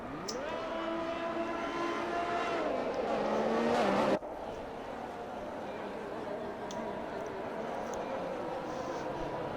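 Race cars pulling away together for a formation lap in a racing video game, several engines revving and rising in pitch, loud and close, then a sudden cut to a steadier engine drone.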